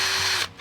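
A power drill with a 1/8 inch bit bores a hole through drip irrigation tubing, a steady close whine lasting most of a second before dropping off and briefly starting again.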